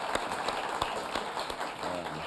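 Audience applause in a Turkish television talk show: dense, steady clapping at moderate loudness with a few sharper hand claps, and a brief voice rising near the end.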